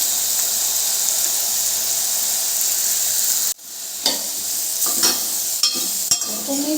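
Onion and bottle gourd fry in a pan with a steady bright sizzle, then a spoon stirs through them, giving several scraping clinks over the continuing hiss; no one speaks.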